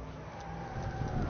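Race car engine in the video game Wreckfest, a steady, loud motor drone with rumbling low end that swells slightly toward the end, with no talk over it.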